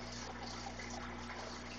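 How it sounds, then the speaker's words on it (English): A small waterfall of stacked natural rocks trickles inside a planted vivarium holding frogs, newts and guppies, giving a steady, faint splashing wash with a low pump hum underneath and no voices. "And that is a little waterfall that I built."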